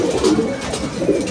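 Pigeons in a loft giving low, throaty coos in short repeated bursts, fairly close and clear.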